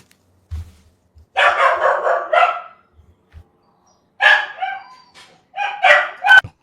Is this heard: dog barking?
yes